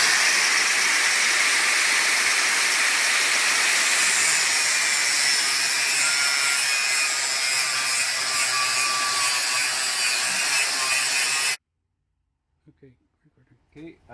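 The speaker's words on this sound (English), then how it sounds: "grab the grinder, and we'll cut it" An angle grinder cuts through a metal bracket for mounting an alternator, producing a loud, continuous high whine and rasp that runs for about eleven seconds and then stops abruptly, followed by quiet with a few small clanks.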